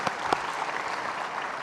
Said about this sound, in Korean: 예, 한번 박수로 한번 축복하십시다.